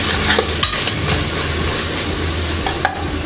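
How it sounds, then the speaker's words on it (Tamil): Mixed vegetables sautéing in a pan for vegetable rice give a steady, close sizzle with stirring scrapes and a few sharp clinks of the spoon against the pan. "நல்லா பச்சை வாசனை போகிறதுக்கு வதக்கி விட்டுக்குங்க"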